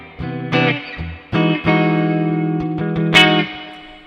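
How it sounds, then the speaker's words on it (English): Electric guitar played through a Kemper amp's spring reverb effect, sounding as a few struck chords and single notes that ring out with a splashy, echoing spring tail, loud and close with no talking. "So if I go spring reverb, reverb."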